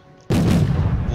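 Supporting gunfire in the Wargame: Red Dragon video game: a single loud, heavy blast bursts in suddenly and leaves a rumbling tail. It follows a quiet stretch, with no voices.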